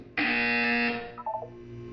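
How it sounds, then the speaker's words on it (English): A loud buzzer in the video game Portal 2 blares for nearly a second, then cuts off and is followed by a short descending run of electronic tones. "When you hear the buzzer, look up at the ceiling."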